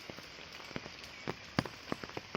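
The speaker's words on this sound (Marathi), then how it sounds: "कितीही पाऊस पडत असला तरी छान वाटते असं" Rain falls steadily on a surface outdoors amid green countryside, individual drops pattering irregularly and close over a soft constant wash, with no voices.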